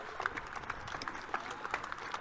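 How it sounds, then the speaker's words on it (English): Audience applause after a Ladies Gaelic football minor club championship final between Carryduff and Clann Eireann, a steady patter of many hands clapping at moderate distance, a little uneven, with no talk over it. "let's give them a big round of applause as well"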